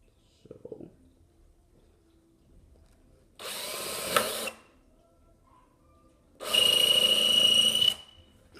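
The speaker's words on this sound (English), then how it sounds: "I'm here with my circuit board and my Dremel. Not an actual Dremel, but it works. So I got a sanding head on there." A cheap Dremel-style rotary tool with a sanding head whirs against a circuit board in two separate bursts of a couple of seconds each, loud and close, with quiet pauses between and a faint knock beforehand.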